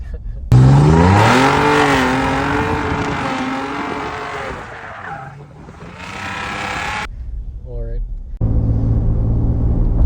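A modified 600-horsepower Ford Raptor truck engine revs and accelerates hard, a loud rising roar with shifting engine tones that dips briefly, then picks up again close by, with people talking over it.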